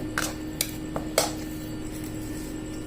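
Sweet made from Bombay rava being moved from a pan onto a ghee-greased plate, with several sharp metallic clinks and taps of a spoon against cookware, spaced irregularly over a quiet kitchen background.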